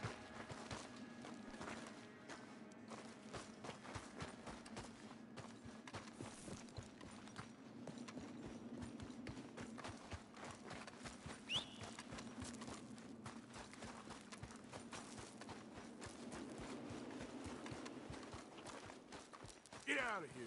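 Horse hooves clip-clop at a steady walking rhythm in the video game Red Dead Redemption 2, continuous and close under low outdoor game ambience.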